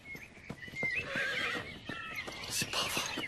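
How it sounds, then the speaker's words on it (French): A horse whinnies several times in a loud, shrill, wavering call, with hoof clip-clop and rustling underneath in an outdoor scene. "Saleté de cheval!"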